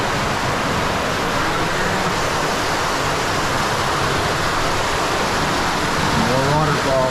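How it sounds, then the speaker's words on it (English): Forest waterfall gives a continuous loud broadband rush of falling water, steady and close with no breaks. "More waterfalls."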